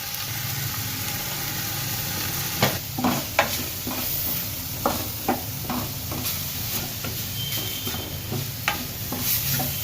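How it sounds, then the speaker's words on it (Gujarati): Spices such as fennel, sesame, pepper and turmeric sizzle in hot oil in a pan while being stirred, with a steady frying hiss and a run of scraping, clinking strokes near the middle. "મસાલાને આપણે બે ત્રણ મિનિટ પકાવ્યો છે આપણે જે વઘાર માર્યો છે"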